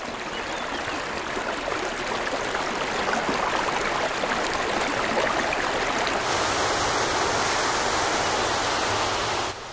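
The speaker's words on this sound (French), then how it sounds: "puis petit torrent dévalant la colline" Loud, steady rush of a fast-flowing stream tumbling downhill over rocks near the source of the Thouet river, a dense continuous wash of water noise with no voices.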